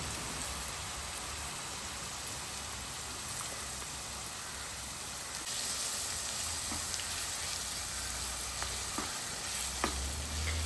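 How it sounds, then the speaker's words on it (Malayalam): Ginger-garlic paste sautés in hot sesame oil for a traditional prawn pickle, giving a steady, fairly quiet sizzle with a few soft clicks from stirring and no talking. "എള്ളെണ്ണ നന്നായി ചൂടായതിനു ശേഷം ഇഞ്ചി വെളുത്തുള്ളി പേസ്റ്റ് അതിൽ ചേർത്ത് നന്നായി വഴറ്റിയെടുക്കുക"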